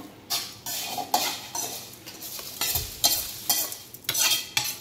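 Chivda is tossed with powdered sugar in a kadhai, giving repeated bursts of dry rustling and scraping against the metal pan in an uneven rhythm, close and fairly loud, with no speech.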